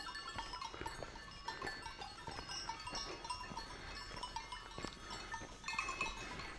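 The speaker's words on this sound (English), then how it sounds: "Must be at least 100 goats there, and I'd say a majority of them have the bells around their necks." A large herd of goats on a trekking route, many wearing neck bells, jingle and clank continuously in an overlapping clatter with occasional bleats, moderately distant and without voices.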